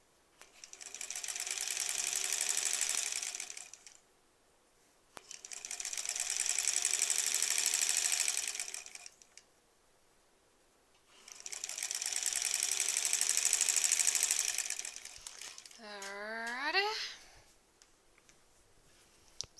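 A sewing machine stitches quilt back pieces in three long, steady runs of several seconds each, a loud close whir separated by brief silences, followed by a short rising squeak near the end.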